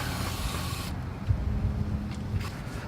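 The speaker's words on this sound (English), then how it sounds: "Just gonna spray it down real good." A steady hissing spray runs throughout, loud and close, with a few soft knocks and clatters underneath.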